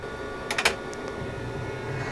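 A Phoenix Contact BLUEMARK printer runs while printing marker cards: a low steady mechanical hum with a few short clicks and a quick burst of whirring near the start, fairly quiet and close.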